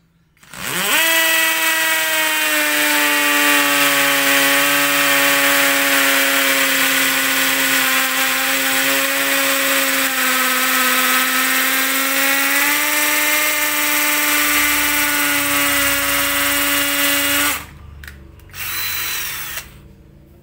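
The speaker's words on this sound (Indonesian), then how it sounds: "Kita coba ke tembok ini." A Bull 20V cordless drill fitted with an 8 mm bit bores into a wall, a loud close high whine holding steady for about seventeen seconds before it cuts off, followed by a shorter burst.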